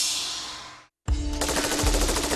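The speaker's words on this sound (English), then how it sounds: "The 416 survives all 3 challenges and continues to fire." A Heckler & Koch 416 rifle fires a rapid automatic burst at close range, with a sharp train of shots after a brief silence and a fading tail before it.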